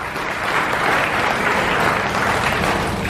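A large audience at a business meeting gives leaders a sustained round of applause, dense even clapping filling the hall at a loud steady level throughout.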